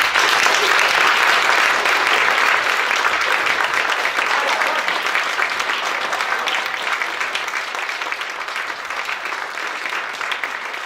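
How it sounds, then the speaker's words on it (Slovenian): A hall audience at the 40th anniversary celebration of the Gorenjska Sonček society breaks into broad, sustained applause that slowly eases in loudness over about eleven seconds. "Predlagam, da damo gospodu in gospe Veličkovič en velik aplavz"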